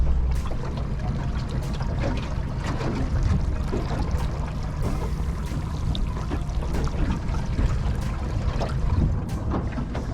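A steady churning rush of water with a low engine-like rumble of a fishing boat heading offshore near Exmouth, with no talking.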